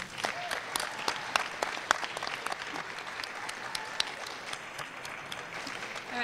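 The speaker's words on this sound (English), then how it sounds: "Let's give David Austin another round of applause." An audience at a talk on energy applauds a speaker with steady, dense clapping that holds at an even level throughout, fairly distant and without voices.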